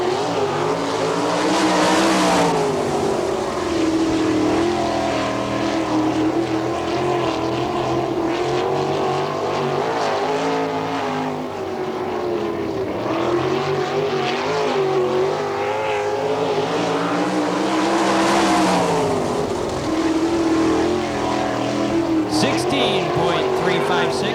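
Race car number 28, driven by Tim Kern, laps the All Star Circuit of Champions track at Findlay, Ohio, a loud continuous engine roar rising and falling as it circles, with a voice talking over it throughout.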